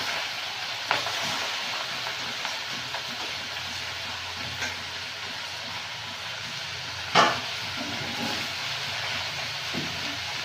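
A steady, soft sizzle of spinach cooking in oil, with a few sharp clatters of a utensil against the pan.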